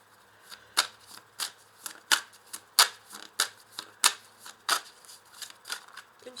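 A deck of tarot or oracle cards is shuffled for a reading, about a dozen crisp riffling bursts in a quick uneven rhythm, close and clear with no talking.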